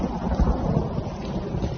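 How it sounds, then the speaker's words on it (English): Heavy rain pours steadily in a loud, continuous wash with low thunder rumbling underneath, over rain-soaked countryside near a village. "But the rains were relentless."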